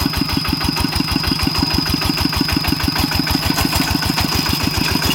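A tractor ploughs a rice field with a loud, steady, close engine chug: a fast, even, pulsing beat that runs without pause and has no talk over it.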